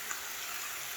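Broccoli sizzling in a pan on a home stove, a soft, steady crackle and hiss that holds at an even, fairly quiet level throughout, with no talking.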